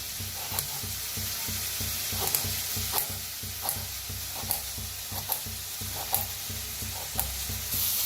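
Onions frying in a pan for a Maharashtrian dingri (mooli pod) dry bhaji, a steady sizzle broken by regular clicks and scrapes of a spoon stirring, close and moderately loud with no talking.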